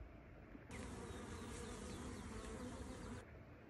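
Dense, continuous droning hum of a large honeybee swarm clustered in a tree, steady and close, rising in abruptly and cutting off near the end.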